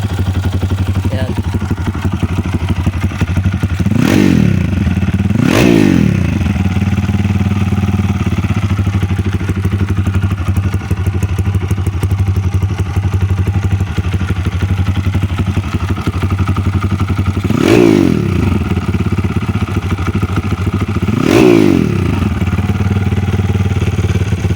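A Honda XRM 125 motorcycle with a new exhaust idles steadily and close, rising into a few short revs at intervals before settling back to a low rumble.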